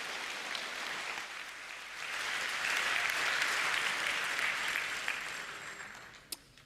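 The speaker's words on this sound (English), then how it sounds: "Please give him a round of warm applause and have fun" Warm audience applause at a hacker conference talk on car scripting, a steady wash of many hands clapping that swells in the middle and tapers off with a sharp final clap near the end.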